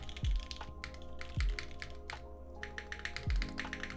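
Keys clicking on a mechanical keyboard with tuned H1 switches in quick irregular bursts, close up, with a few heavier low thumps spaced through.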